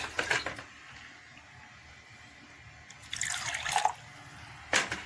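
Water pours into a cup of green liquid soap solution in short splashing bursts, one at the start and two more near the end, with quieter running water between.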